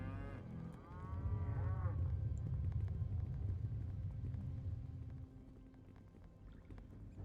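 Cows in the video game Neverwinter Nights low in long, drawn-out moos, one sustained call dominating the middle before fading, with a brief tonal sweep near the start.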